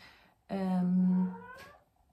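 A pet cat named Fritz gives one drawn-out, fairly loud meow close by. The call slides slowly downward and ends with a short rising tail, and no one talks over it.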